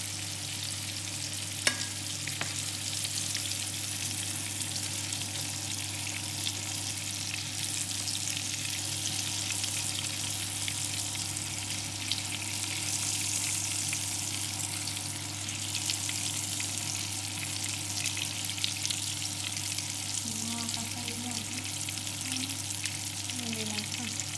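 Salmon fillets browning in a hot pan make a dense, continuous sizzle that holds steady throughout, close and even, with a faint low hum beneath.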